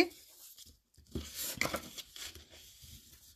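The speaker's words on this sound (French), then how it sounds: "marquer mes plis" Paper folds of a handmade gift box being creased, a few crisp crinkling and scraping rustles up close and fairly quiet, with brief pauses between strokes.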